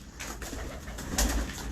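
A pigeon with colour still marked on its feathers, bred from a Teddy father and a Sialkoti mother, coos steadily nearby against a faint background hum.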